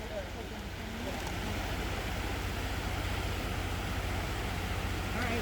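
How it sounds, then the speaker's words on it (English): Continuous broadband rush of a waterfall at Ohiopyle or Cucumber Falls, steady and fairly distant, with faint voices talking beneath the roar. "Because it's a nice waterfall."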